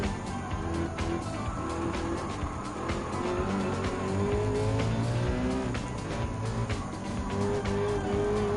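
Nissan GT-R racing in Gran Turismo 7 during a weekly supercar and hypercar challenge, engine droning steadily with rising and falling gear pitches and tire squeal over continuous road rumble.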